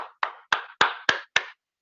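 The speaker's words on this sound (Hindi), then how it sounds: "वाह क्या बात, जोरदार तालियां।" Six crisp hand claps from meeting participants in a business-plan session, evenly spaced and close, sounding as a short steady burst with no talking.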